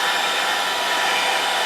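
A heat gun blows hot air onto a sheet of Worbla thermoplastic, giving a steady, loud, close hiss and whoosh with no change in pitch throughout.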